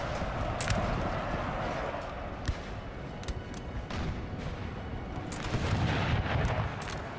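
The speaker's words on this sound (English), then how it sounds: "Got some Austrian artillery." Austrian artillery firing in Napoleon: Total War, dull booms and distant cannon thuds scattered over a dense rumbling battle din, with faint voices underneath.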